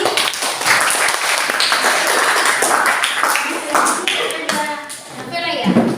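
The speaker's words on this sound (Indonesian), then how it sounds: "Tepuk tangan buat Febrianti." Classmates clap for a student in a school classroom after she reads her assignment aloud, a dense, steady patter of many hands lasting throughout, with children's voices mixed in.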